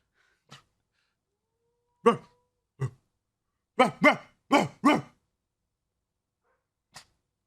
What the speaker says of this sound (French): Vous entendez l'autre chien ou pas?